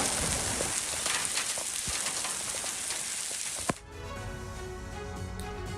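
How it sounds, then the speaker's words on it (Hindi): Heavy rain mixed with large hailstones pours down in Al Jouf, Saudi Arabia, as a dense, steady roar of drops hitting surfaces. It cuts off abruptly with a click near the end, leaving a quieter hum. "सऊदी अरब की तस्वीर अल जौफ की जहां पर जबरदस्त बारिश और बारिश के साथ साथ ये बड़े बड़े ओले भी गिरे हैं"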